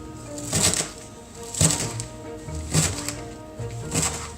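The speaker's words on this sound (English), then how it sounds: "We begin by chopping some dill." A knife chops fresh dill on a cutting board for Passover gravlax, landing four evenly spaced, fairly loud strokes about a second apart with no talk.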